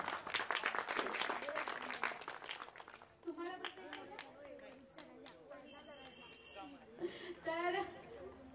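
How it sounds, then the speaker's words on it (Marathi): Audience clapping loudly for the committee members at a Ganesh festival mandal gathering: a dense burst for about three seconds that stops abruptly, followed by people talking and murmuring in the hall. "ते ह्या सगळ्यांसाठी तुम्ही जोरदार टाळ्या वाजवा."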